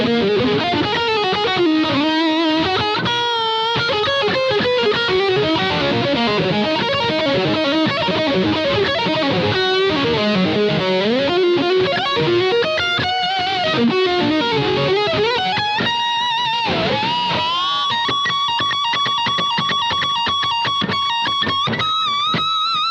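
Electric guitar through a Boss GT-8 set for a heavily distorted, full Mesa Boogie Dual Rectifier-style tone, playing fast continuous riffs and bends, loud and dense without pause or talk.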